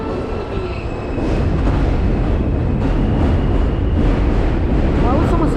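Interior of a Coney Island-bound F express train on the IND Culver Line in New York, riding with a loud, steady rumble and rattle of wheels on track, while passengers talk nearby.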